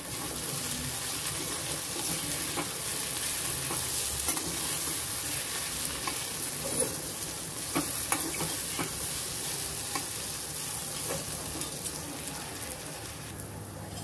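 Pea kachori filling is stirred in a pan over a constant soft frying hiss, with scattered scraping and clinking of the spoon throughout.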